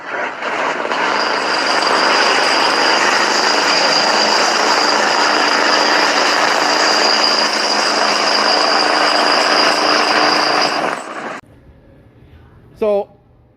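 A Ford 7.3 IDI turbo diesel engine runs on its first start after purchase, a loud steady rumble with a whine that cuts out abruptly, then a brief burst of sound follows.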